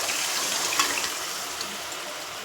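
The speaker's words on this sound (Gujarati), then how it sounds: "હવે આપણે બધું શાકભાજી બાફ્યું હતું ને એ એમાં એડ કરવાનું છે" Boiled mixed vegetables and their cooking water are poured into a gravy, making a steady, continuous splashing gush that lasts throughout.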